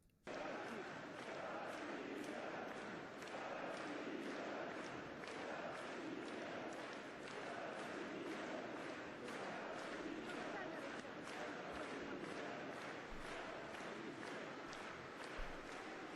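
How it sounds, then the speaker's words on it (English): A Russian crowd standing and applauding in celebration, with steady dense clapping and crowd noise filling a large hall throughout. "You see everybody standing and applauding."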